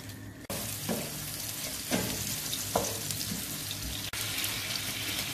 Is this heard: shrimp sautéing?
yes